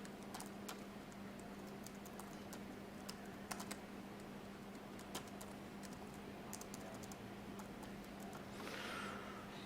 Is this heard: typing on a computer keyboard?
yes